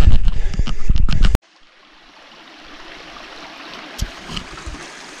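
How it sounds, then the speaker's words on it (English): A small stream that always carries water, flowing steadily with a soft, even wash of water after a short burst of louder, rough noise at the start. "Man, I love this little stream. Always water in it."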